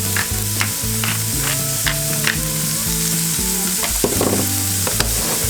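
Pork sausage fries in its own rendered grease for Southern white country gravy, a steady close sizzle with soft stirring scrapes, while a steady musical tone plays underneath.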